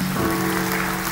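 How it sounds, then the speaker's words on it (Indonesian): A short burst of steady crowd applause at a Founders Day event, dense and even, filling the whole moment without a break. "Tepuk tangan buat sekalian."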